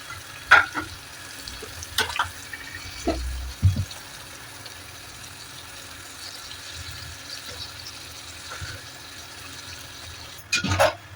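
Onions sauté in a pan for mutton biryani with a low, steady sizzle, broken by a few loud spatula knocks and stirring clatters near the start and end.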